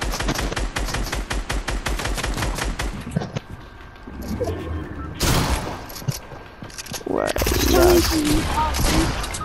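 Video game gunfire rattles in rapid bursts and single shots over a busy, loud mix of in-game sounds and shouting voices.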